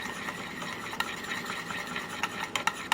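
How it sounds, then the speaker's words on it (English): A spoon stirs dissolving gelatin in a bowl for a strawberry mousse, giving soft repeated scraping clinks against a steady background hum that grow a little busier toward the end. "And just going to stir around."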